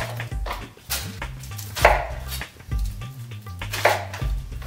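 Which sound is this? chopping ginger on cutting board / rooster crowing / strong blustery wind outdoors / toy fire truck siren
chopping ginger on cutting board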